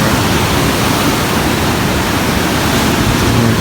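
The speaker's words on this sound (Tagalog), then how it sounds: "ang sarap sa pakiramdam makarinig ng mga alon" Steady broadband wash of sea waves along a shore, loud and continuous with no distinct breaks or voices.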